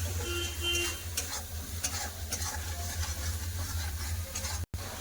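A spice paste of turmeric, chili powder and salt is stir-fried in a pan for a fish curry with potato and bodi, giving steady soft sizzling and repeated scraping stirs, close and unaccompanied by speech.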